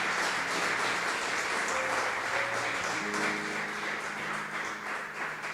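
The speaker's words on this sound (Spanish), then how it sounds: "Yo le invito a que pueda darle un aplauso a nuestro Dios." A church congregation applauds together, a steady dense wash of clapping that holds throughout with faint sustained organ or keyboard tones beneath it.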